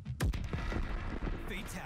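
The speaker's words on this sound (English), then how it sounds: "he just saw like the whole earth explode because of Cyrax's ability, fatality" A deep, booming explosion from Cyrax's world-destroying fatality in Mortal Kombat 1, a heavy low blast followed by rumbling debris, with a voice talking over it.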